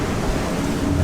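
Strong storm wind roars steadily across the sea aboard a sailboat at 34 to 36 knots, a loud, dense rush of gusting air and surf with low rumbling wind noise on the microphone.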